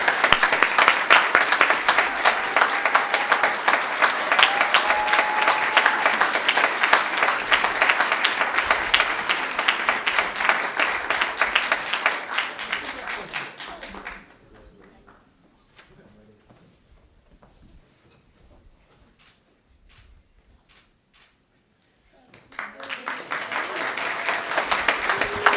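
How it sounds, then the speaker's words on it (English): Audience applause at a Three Minute Thesis competition ceremony: a loud, sustained burst of clapping from a crowd, which fades to near silence and then swells again in a second round. "one more round of applause for the participants and for the judges"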